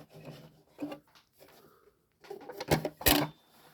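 Spring-loaded door on an electronic toy TARDIS being pushed shut and locking, soft plastic rubbing and scraping followed by two sharp, close clunks.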